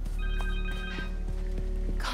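A phone rings in the Spider-Man 2 video game, a steady electronic ring tone repeating with a regular rhythm over a low background hum, clear and close.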